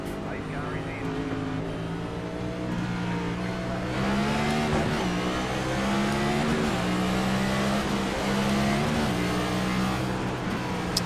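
A Cup stock car engine in the iRacing sim at Bristol drones steadily at high revs, its pitch rising and falling slightly through the laps, with other cars' engines blended underneath.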